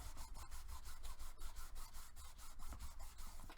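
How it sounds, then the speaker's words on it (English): Paper being burnished onto chipboard in a crafting project: close, rhythmic rubbing strokes in rapid repeated passes, scratchy and dry, with no talking. "let's go ahead and bring it over and burnish this side"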